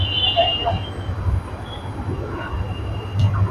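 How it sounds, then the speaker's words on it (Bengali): A train approaching on a line bound for Dhaka Kamalapur, giving a steady low rail rumble with a thin high whine riding over it, swelling slightly toward the end. "ঢাকা কমলাপুরের উদ্দেশ্যে একটি ট্রেন আসতেছে।"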